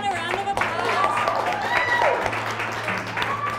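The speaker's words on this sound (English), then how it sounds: "Let's give everyone a round of" Applause from an audience at a design thinking presentation of a map made by teens, a steady wash of clapping running beneath an overlapping speaking voice.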